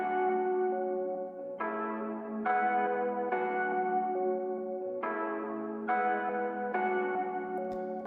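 Reversed bell-like melody for a lo-fi drill beat. Sustained chiming chords swell and cut off abruptly in a slow repeating pattern, clear and moderately quiet, with no voices.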